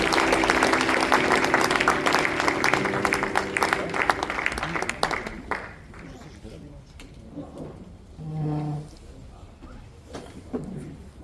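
A church congregation applauding and cheering the Lord as the pastor comes forward, dense clapping and voices for several seconds, then fading out as a single voice speaks and the room quiets.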